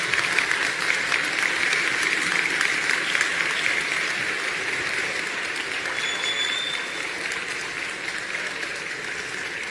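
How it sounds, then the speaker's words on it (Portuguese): Sustained applause from a church congregation thanking pastor Kleber fills the room, dense and even clapping that holds steady for nearly ten seconds and tapers slightly toward the end, without any voices. "eu queria que a gente, em forma de gratidão, pudesse aplaudi-lo."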